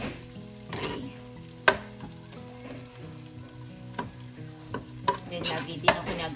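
Beef back ribs sauté in a pan for sinigang: steady sizzle with repeated sharp scrapes and clinks of a utensil stirring, some louder knocks against the pan, close up with no speech.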